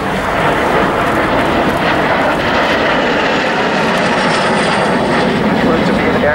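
Lockheed T-33 Shooting Star jet trainer passes at the Sanicole airshow in 2013, its engine a loud, steady roar that swells and shifts as it flies by, with a voice talking over it.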